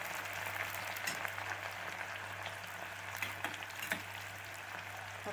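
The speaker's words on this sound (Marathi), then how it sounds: "हा कांदा तळायला ठेवलेला" Onions frying in a pan for chicken biryani, a soft continuous crackling sizzle with scattered pops and a low steady hum underneath, fairly faint and with no voices.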